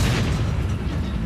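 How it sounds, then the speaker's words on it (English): An M1 Abrams tank's main gun firing outdoors, heard as a sustained, heavy low rumbling roar of blast and its echo filling the whole moment, loud and close. "just the sheer power and shock and awe effect that that main gun has when it goes off"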